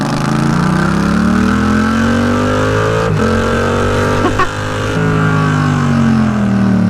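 A Yamaha R7 sport motorcycle in its 60th-anniversary edition pulls hard from close by, its engine note rising steadily through the gears with two brief dips at shifts, loud and alone without talk.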